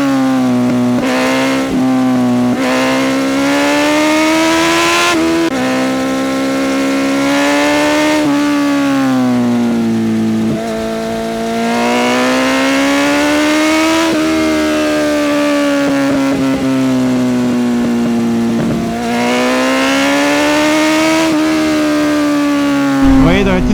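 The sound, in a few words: Yamaha Fazer 600 motorcycle riding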